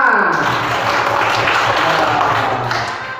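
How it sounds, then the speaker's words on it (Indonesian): A classroom of students claps together after singing a patriotic song, a loud close burst of many hands that holds steady and then tapers off toward the end. "Tepuk tangan semua."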